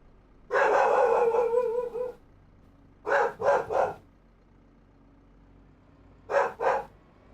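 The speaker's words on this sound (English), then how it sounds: "Heimdall's barking at something" A dog barks outdoors at a distance: first a longer run of barking or howling, then a quick burst of three barks, and after a pause two more. No one speaks.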